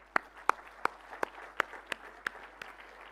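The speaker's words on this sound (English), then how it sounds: "Let's have a round of applause." Sparse applause at a hospitality and tourism conference, a handful of distinct sharp claps spaced out over a few seconds, fairly faint and heard against quiet room ambience.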